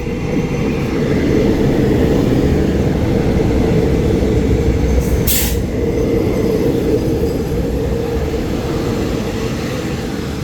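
Thai express train No. 43 standing at Ban Pong station, a steady loud rumble of engine idling and rail noise throughout with a brief hiss burst midway.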